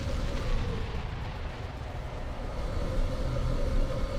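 An enemy structure blowing up in the real-time strategy game Ground Control, a loud continuous rumbling explosion roar that holds steady throughout.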